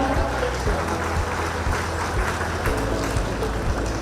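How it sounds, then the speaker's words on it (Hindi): A crowd applauds steadily at a foundation-stone ceremony for flyover projects in Ranchi, a continuous wash of many hands clapping at moderate loudness. "जोरदार तालियां।"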